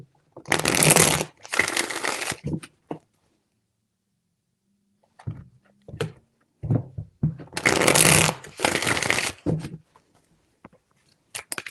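Tarot cards shuffled by hand in two long bursts of dense riffling, close and fairly loud, with a quiet gap and a few soft taps and handling sounds between them.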